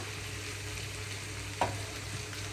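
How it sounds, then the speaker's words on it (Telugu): Ivy gourd (tindora) pieces frying in a pan give a steady, quiet sizzle, with a single brief clink or stir partway through and no talk. "చూడండి ముక్క కొంచెం మెత్తగా అయిపోయింది ఇంకా కొంచెం ఇస్తున్నాను ఇంకొంచెం వేగాలండి దొండకాయ ముక్క"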